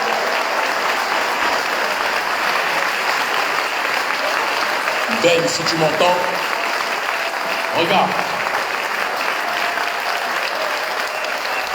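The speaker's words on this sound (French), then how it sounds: "Et je vous demande de les applaudir" Steady audience applause fills the hall at a Guadeloupe gathering on resistance against the high cost of living, a loud continuous roll of clapping while someone speaks briefly over it in French partway through.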